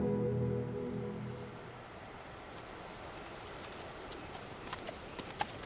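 A horse's hooves plod through fresh mud after rain, soft scattered steps with a few sharper knocks late on, faint under a steady outdoor wash of noise.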